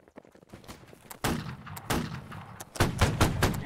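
Scattered musket shots ring out in a line battle in the video game Holdfast: Nations At War, with irregular cracks and thumps at varying distances that build into a denser volley near the end.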